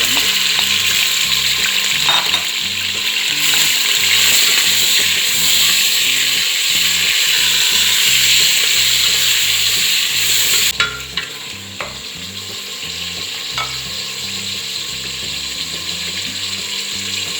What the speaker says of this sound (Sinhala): මම මුලින්ම කරන්නේ මේ මස් කෑලි ටික විනාඩි 3ක් 4ක් විතර ෆ්‍රයි කරගන්න.